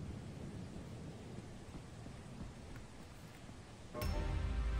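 Thunder and lightning storm in the video game Lethal Company: a steady rumbling rain-like wash, then a sudden loud thunder crack near the end that rolls on as a heavy low boom.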